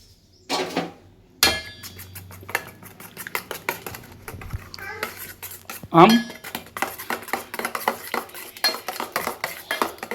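Rice omelette ingredients with chilli powder being mixed in a bowl, a rapid run of close clinking and tapping of a spoon against the dish, with a few louder knocks and a voice talking near the start.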